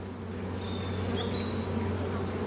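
Honeybees buzz steadily around an opened hive in an apiary, a dense continuous hum close by with no voices over it.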